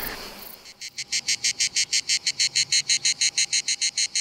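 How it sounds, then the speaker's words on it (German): Cicadas in Provence sing a loud, close, rapid pulsing rasp, steady repeated bursts of buzzing chirps in an even rhythm after a brief noisy start. "Im Hintergrund hört man die allgegenwärtigen Zikaden."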